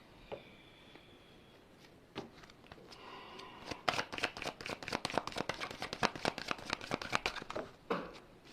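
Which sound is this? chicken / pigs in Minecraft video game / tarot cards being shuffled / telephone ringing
tarot cards being shuffled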